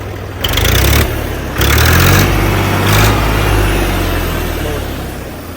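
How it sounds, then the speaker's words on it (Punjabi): A Swaraj 744 tractor engine runs loud and close, with a steady low diesel throb that swells a little on a couple of brief revs before settling into an even idle. "ਟਰੈਕਟਰ ਦਾ ਇੰਜਣ ਉਹਨਾਂ ਦੀ ਆਵਾਜ਼ ਸੋਹਣੀ ਲੱਗਦੀ ਆ"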